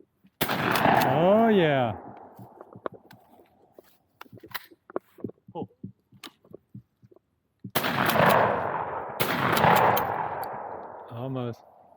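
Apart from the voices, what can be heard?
gunshots from target shooting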